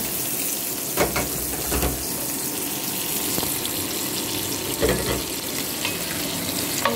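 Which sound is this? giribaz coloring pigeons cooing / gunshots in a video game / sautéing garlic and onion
sautéing garlic and onion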